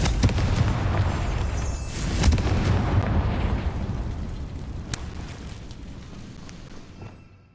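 Confringo fire spell explosion in Hogwarts Legacy, a loud booming burst up front, then a long rumbling blast tail with a few sharp crackles that fades toward the end, no talking.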